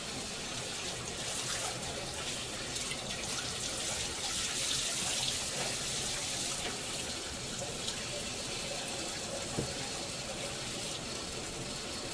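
Water runs steadily from a tap while rinsing laundry, in a continuous, even rush with faint splashing, without pause throughout.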